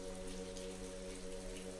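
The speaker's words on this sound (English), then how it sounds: "The sound of raindrops tapping against the windows created a soothing ambience" Rain tapping against library windows on a rainy fall day, a steady soft patter under a low constant hum, faint and even with no voices.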